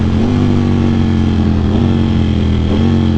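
Ducati Panigale V4 SP2 motorcycle with a BT Moto Stage 2 ECU flash, its engine droning loud and steady at close range on a highway ride, with a slight dip in pitch near the end.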